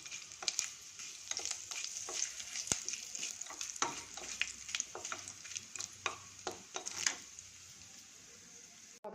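Whole spices like cinnamon, cloves, fennel, mace, bay leaf and cardamom crackle and sizzle in hot oil, with sharp irregular pops over a soft frying hiss, fairly quiet and close.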